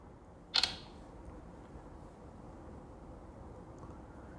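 A Tecno Spark 7T phone camera takes a picture, a single sharp shutter click near the start, close and crisp, followed by faint room hum with no speech.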